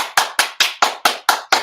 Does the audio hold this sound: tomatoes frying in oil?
no